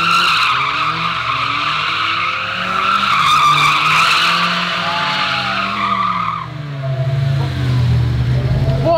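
A Lamborghini drifting, its tires skidding and squealing loudly in a sustained screech over the roaring engine, fading toward a lower rumble near the end.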